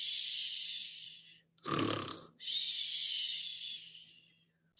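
A voice mimics loud snoring for a zoo animal in a children's story reading: a long breathy hiss, a deep rattling snort in the middle, then another long hiss, fairly close and alone.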